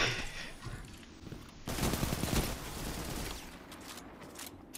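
Rapid gunfire from a weapon in a video game, a burst of fusillade-like shots that swells loudly for about a second near the middle over a steady background of game noise.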